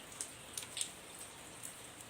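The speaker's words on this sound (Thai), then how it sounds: "ฝนนะคะ ตกอีกแล้วค่ะ" Light rain falling outdoors during a brief shower between spells of sun, a faint steady patter with a few distinct drops landing on a surface, no voices.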